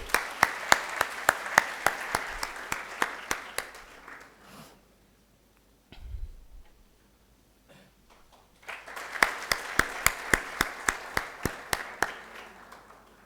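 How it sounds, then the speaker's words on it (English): Audience applause at a conference inaugural ceremony: a sharp run of crisp, individual claps that fades to near silence in the middle, then a second burst of steady clapping picks up and carries on. "Huge round of applause, everybody."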